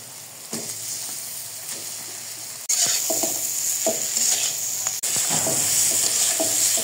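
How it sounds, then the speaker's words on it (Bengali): Hilsa fish sizzles in spiced oil with salt and turmeric while being cooked for a bottle gourd curry. Loud, steady frying runs throughout, broken by scraping stirs of a spatula against the pan. "মশলা কিছুক্ষণ নেড়ে নিয়েছি, ইলিশ মাছ দিয়ে দিব।"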